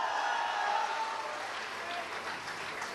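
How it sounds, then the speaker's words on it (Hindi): An audience at a stage show claps, with young people applauding from the back, giving a short, steady burst of crowd applause that fades slightly toward the end. "बहुत नौजवान लोग भी बा पीछे से ताली बजा रहल बा"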